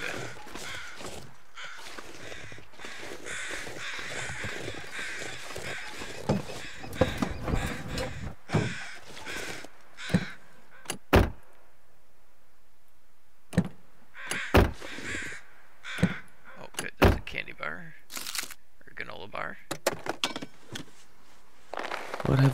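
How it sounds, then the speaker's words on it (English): Crows cawing in The Long Dark, harsh repeated caws across a long stretch, some near and loud, others fainter, with scattered sharp knocks and crunching footsteps between calls. "So you watch for the crows, and that's where bodies usually are"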